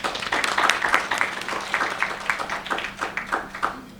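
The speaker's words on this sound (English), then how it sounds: "I'd like to give her a quick round of applause" A conference audience gives a quick round of applause, a modest patter of individual claps, fairly close, that thins out and fades over a few seconds.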